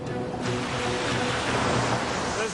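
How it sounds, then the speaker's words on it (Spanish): A dredger head works in a river, breaking up the gravel riverbed, producing a loud, continuous churning roar of water and grinding debris that swells slightly after a moment, with no talk. "Cuando el cabezal de la draga está en el agua, empieza a romper trozos del lecho del río."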